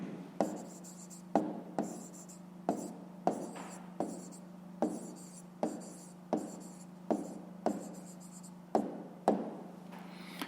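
A pen writes an answer by hand on paper, a quiet run of short scratches and taps coming in an uneven rhythm over a low steady hum.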